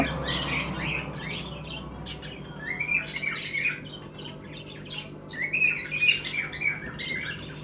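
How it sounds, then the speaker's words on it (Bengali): Pigeons kept in a bird shop squawk and chirp in a steady overlapping chorus, with no talking. "পায়রা সব অ্যাক্টিভ আছে পায়রা দেখতেই পাচ্ছ"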